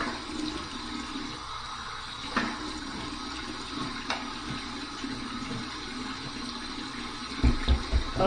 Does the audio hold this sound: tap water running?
yes